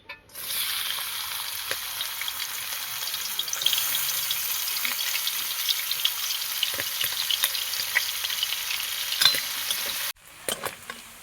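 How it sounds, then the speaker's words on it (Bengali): Onions sizzle loudly in hot oil in a wok, a dense, steady crackling hiss with scattered pops and stirring scrapes that runs for about ten seconds before a brief break. "কড়াইয়ে তেল গরম করতে দিয়ে দিয়েছি। তেল গরম হয়ে গিয়েছে।"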